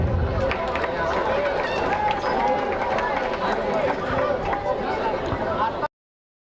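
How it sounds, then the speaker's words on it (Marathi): An audience applauds loudly at the Swartarang 2K26 college event at New Satara College of Engineering and Management, Korti. The dense, steady clapping lasts about six seconds, then cuts off abruptly. "सर्वांनी जोरदार टाळ्या वाजवायच्यात"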